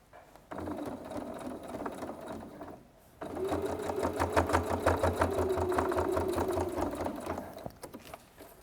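A sewing machine stitches fabric pieces of a bag in two steady, close runs of rapid mechanical whirring, separated by a short pause near the start and ending with a brief stop.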